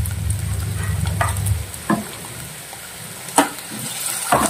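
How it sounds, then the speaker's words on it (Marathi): Ground spice paste is dropped into onions frying to a pink colour in hot oil and stirred, making a loud sizzle that fades into a quieter fry, with a few sharp spoon scrapes and clacks. "त्याच्यात आता आपण वाटप टाकून घेणार आहोत."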